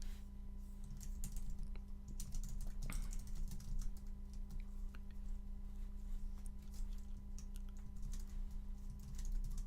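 Brisk typing on a computer keyboard rattles along in dense, continuous clicks over a steady electrical hum, close-miked and without speech.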